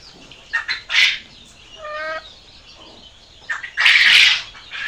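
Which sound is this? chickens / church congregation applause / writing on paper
chickens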